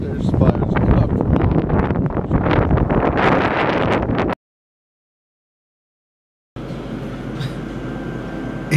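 Strong outdoor wind buffets the microphone with loud, rough rumbling and voices mixed in. It cuts out abruptly for about two seconds, then a quieter, steadier background returns.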